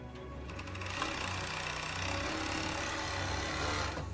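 A Fusion 757 five-thread overlock sewing machine runs continuously close up, a fast mechanical whirr with rapid rhythmic stitching clatter throughout, used to finish raw upholstery fabric edges.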